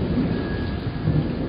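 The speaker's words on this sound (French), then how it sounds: "la pluie commence à tomber sur la rivière" Steady, dense rainfall hissing over a river, a continuous wash of drops with a low rumbling undertone throughout.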